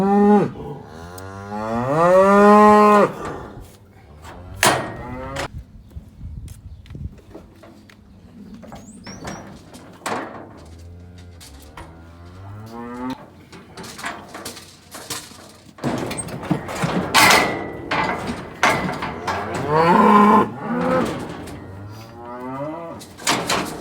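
Calves and cattle crowded in a squeeze chute during spring vaccination and castration moo loudly and repeatedly, long drawn-out calls overlapping with metal clanks and gate rattles close by.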